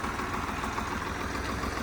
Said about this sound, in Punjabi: ਸੈਲਫ ਸਟਾਰਟ ਟਰੈਕਟਰ ਹੈ ਠੀਕ ਆ ਲਾ ਦੇ